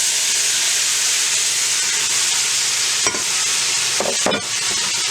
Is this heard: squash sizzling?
yes